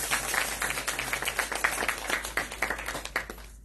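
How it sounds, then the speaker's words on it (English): Audience applause at a birthday gathering during a Ramayan satsang: a small group claps in a brisk, uneven patter, close and moderately loud, fading at the end. "Let's give her a round of applause,"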